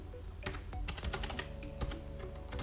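Code being typed on a computer keyboard, an irregular run of close, clicky keystrokes in short bursts over a steady low background hum, with no talking.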